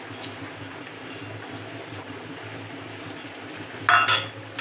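A spatula scrapes and clinks against a dry kadai while whole cumin seeds are roasted and stirred, with soft intermittent metallic taps and a brighter clatter near the end.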